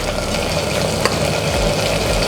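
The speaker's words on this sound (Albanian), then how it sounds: "Atëherë, ju japim një skuqje të shpejtë karkalecave." Shrimp quick-fry in a hot pan as a loud, close, continuous sizzle, with faint stirring under it and no one talking.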